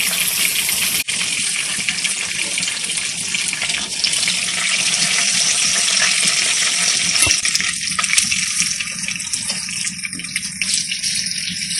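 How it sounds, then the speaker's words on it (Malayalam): Chicken pieces for chicken mandi frying until crisp, a loud continuous sizzle and hiss of hot oil with occasional clinks, close and steady throughout. "നമുക്കിതെല്ലാം എടുക്കുന്ന അടുത്ത എല്ലാം പീസ് ഇതുപോലെ ഫ്രൈ ചെയ്ത് മൊരിച്ചെടുക്കാം."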